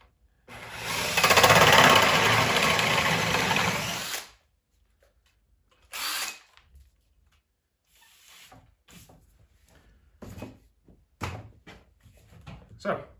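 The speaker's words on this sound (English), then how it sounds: "drill at an angle" A power drill fitted with a Pro Fit hole saw bores at an angle in one loud, close, sustained whirring burst of about four seconds, followed by a short restart and scattered knocks and handling clatter.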